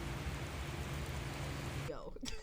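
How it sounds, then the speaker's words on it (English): Steady rain falling outdoors, a dense continuous hiss that cuts off abruptly near the end, leaving a short quieter stretch with faint scattered sounds. "Now the experience of being in the rain without doing this feels like this."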